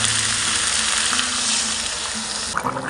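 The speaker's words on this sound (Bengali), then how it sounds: "জলটা দিয়ে দিচ্ছি।" Water poured into a frying paste of cumin, garam masala, green chilli and salt crackles into a loud, bubbling sizzle up close, with a sharper splash near the end.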